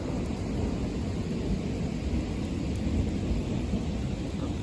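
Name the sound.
thunderstorm with rain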